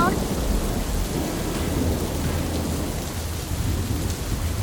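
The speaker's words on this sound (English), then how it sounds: "Suddenly, the rain pours down." Heavy rain pours down in a dark forest during a thunderstorm, a dense, loud hiss of downpour with deep rolling thunder rumbling underneath throughout, no voices present.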